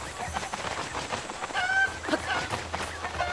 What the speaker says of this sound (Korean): 저기 꼬꼬가 있는데